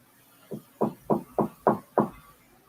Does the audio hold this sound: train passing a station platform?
no